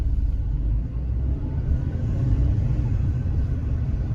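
A Citroen C2 in full auto mode drives along with a steady low engine rumble and road roar, continuous and fairly loud with no talking.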